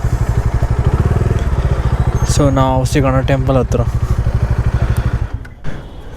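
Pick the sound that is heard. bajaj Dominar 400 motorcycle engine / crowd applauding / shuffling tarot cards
bajaj Dominar 400 motorcycle engine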